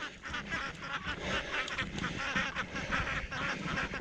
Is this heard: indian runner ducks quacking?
yes